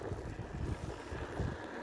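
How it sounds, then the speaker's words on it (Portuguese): Strong wind buffets the microphone during a bike ride, a low, gusty rumble pulsing unevenly at close range with no voices. "o vento tá forte"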